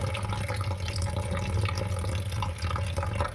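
Water runs steadily from a tap or jug into a bowl of moringa flowers, salt and turmeric, a continuous close splashing and trickling fill with no talk.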